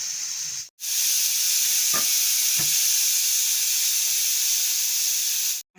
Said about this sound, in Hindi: तो अब कुकर को खोल लेते हैं।